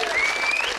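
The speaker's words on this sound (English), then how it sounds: "quite a few of you were clapping in agreement there" A studio audience at a live late-night television discussion claps in agreement, a short, loud burst of dense applause.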